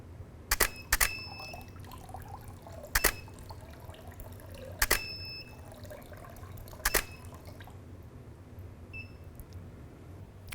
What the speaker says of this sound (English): just drip that into the tank whilst taking the image